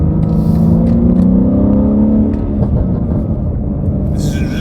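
A BMW G80 M3 fitted with an AWE Switchpath exhaust and high-flow catted downpipes drives at low revs while still cold, giving a steady loud engine rumble and drone with a slight rise and settle, and faint talk over it.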